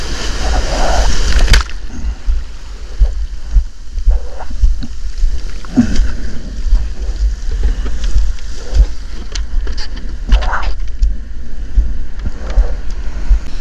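Small left-hand waves break hard at a shore break, giving a close, repeated crash and wash of surf mixed with wind rumble, mostly without talk.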